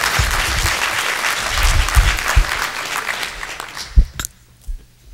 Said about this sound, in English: Could I ask that we withhold the clapping, please?